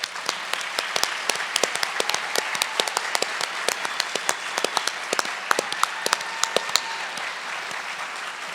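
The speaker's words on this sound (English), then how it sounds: "those people who are willing to devote the time, the energy to reach out to their communities and run for office deserve a round of applause from all of" Scattered audience clapping at a political debate, with sharp individual claps standing out over a thinner layer of applause, fairly close, and tapering off toward the end.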